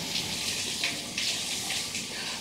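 Tap water runs steadily while a NutriBullet lid is rinsed beneath it, a bright splashing hiss with brief surges as the lid shifts under the stream; no one speaks.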